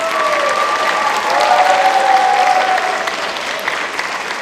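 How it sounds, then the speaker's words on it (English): An audience at an arts festival's opening applauds warmly, a thick, sustained wash of clapping that swells slightly midway, with a few whoops rising above it. "So give yourselves a round of applause."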